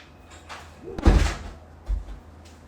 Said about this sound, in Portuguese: eu preciso fechar a porta aqui porque a cachorra entrou